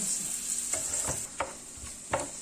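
Onions sweating in a pan for paella, a soft steady sizzle with a few light stirring scrapes at intervals, close and fairly quiet.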